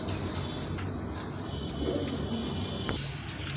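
Pigeons, a male and a female pair, coo softly amid a steady background noise, with faint scattered chirps and a brief rustle near the end.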